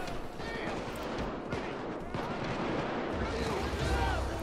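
Grenade blasts and gunfire crackle from a Payday 2 shootout in a tunnel, a dense, continuous rumble of bursts and booms at moderate volume, with indistinct voices mixed in.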